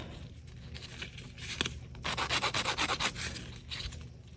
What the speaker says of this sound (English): when you use a nail file, it does scuff the edge up